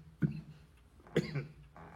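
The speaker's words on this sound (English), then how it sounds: "I'm coughing." Two sharp coughs, about a second apart, close to the microphone, with a short quiet gap between them and faint rustling afterward.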